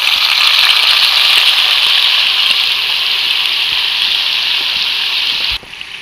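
Soybean mixture dropped into hot oil in a kadai, a loud, dense, steady sizzle that holds for several seconds and then drops off sharply near the end.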